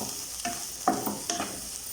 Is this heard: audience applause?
no